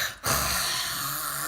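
A person's voice imitates loud snoring, one long rasping breathy snore that follows a brief pause and carries on loudly, close to the mic, with no other talk.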